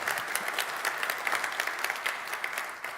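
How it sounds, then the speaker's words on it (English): Audience at a conference on investing in and rebuilding Ukraine gives continuous applause, many hands clapping in a dense, even patter for several seconds. "Let's give an applause for."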